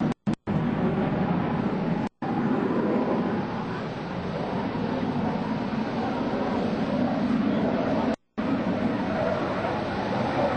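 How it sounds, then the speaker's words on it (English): A US Navy Blue Angels jet passing an airshow crowd after a split-S takeoff at NAS Oceana in 2002: a loud, broad, steady jet roar filling the whole stretch, briefly cut by dropouts. "He completes the split S on takeoff, pass before you and exit the flight line to the right."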